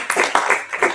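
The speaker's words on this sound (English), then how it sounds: "A big applause." Brief clapping from a small audience at a talk on blogging and online branding, with a short burst of hand claps close by and no voices.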